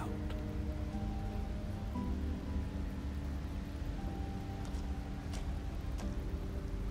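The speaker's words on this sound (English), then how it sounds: "Is there a reason it would be raining?" Steady rain falling in the video game Slay the Princess, a soft continuous patter under a low sustained musical drone, with no talking.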